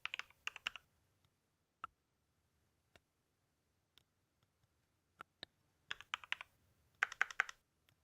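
Bursts of computer keyboard typing with isolated single key clicks in between, close and fairly quiet, entering a part name into AutoCAD Electrical software, no talking.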